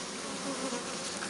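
Honey bees buzzing at an open beehive, a dense, steady close-up hum of many insects with no talking.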